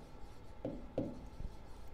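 Marker strokes on a board during an electrical engineering lesson: a few short scratchy taps and rubs, close and fairly quiet, with no talking.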